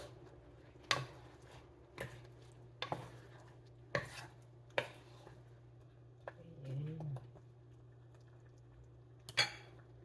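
A utensil stirs squash and string beans simmering in coconut milk in a pot, giving intermittent sharp clinks and taps against the pan over a low steady hum, faint and close.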